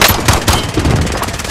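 Rapid loud gunfire in Call of Duty: Modern Warfare gameplay, a continuous close burst of shots with sharp repeated cracks and no talk.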